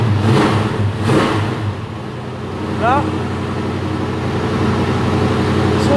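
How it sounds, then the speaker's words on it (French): A V8 car engine with a four-speed manual gearbox revs up loudly twice close by, then settles into a lower idle rumble while a person talks over it. "son V8 avec la boîte méca 4 vitesses"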